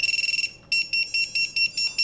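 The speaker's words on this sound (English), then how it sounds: "I forgot that the buzzer's gonna go off at 1 a.m." A buzzer alarm sounds a fast run of short high-pitched beeps, then after a brief pause keeps up a slower pattern of longer piercing tones, loud and alone.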